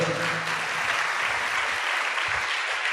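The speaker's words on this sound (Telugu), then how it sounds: "చప్పట్లు కొట్టండి అందరూ గట్టిగా" Congregation clapping during a Sunday church worship service, a dense burst of many hands at steady loudness, thinning slightly toward the end.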